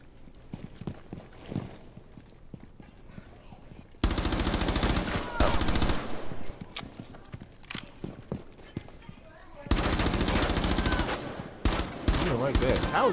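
Loud bursts of automatic gunfire from Rainbow Six Siege come in two long sustained stretches, with sharp repeated shots, separated by a quieter passage of scattered steps and softer sounds.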